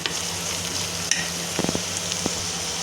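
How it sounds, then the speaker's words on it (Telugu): Onion fries in oil for a gurugaaku curry, giving a continuous loud sizzle near the pan, with a brief clatter of a utensil stirring partway through and no talking. "ఈ ఉల్లిపాయను చూడండి ఫ్రెండ్స్, ఈ విధంగా వేగితే చాలు."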